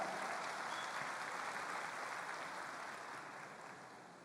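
Dense, sustained applause from a large audience fills a business event hall in Petrolina, loud and even throughout and fading slightly toward the end, with no talking.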